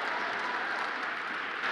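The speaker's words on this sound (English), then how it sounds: "Let's clap for that." Brief, moderately faint wash of audience applause, steady clapping without voices over it.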